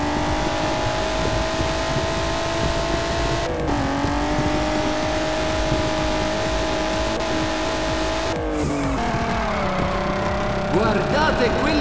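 Loud, continuous car engine roar from the Juiced 2: Hot Import Nights racing game, sustained revving with shifting pitch and brief gear-change dips, with tire noise under the engine throughout.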